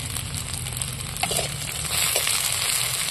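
Chopped garlic sizzles with onions in hot oil, a steady even crackle throughout with a few light stirring scrapes, close and moderately loud, no voices.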